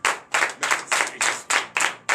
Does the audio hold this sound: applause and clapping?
yes